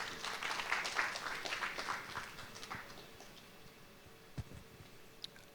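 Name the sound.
audience applause for a forum speaker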